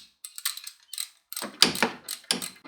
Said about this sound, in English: we're using our wrench and our socket again, and then we tighten up the top part of the pulley